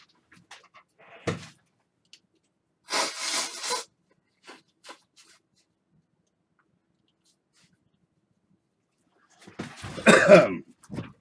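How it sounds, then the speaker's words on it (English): Two loud, breathy nose blows, one short and one longer, separated by quiet, with faint rustling and a small sniff in between. "Let me blow my nose real quick."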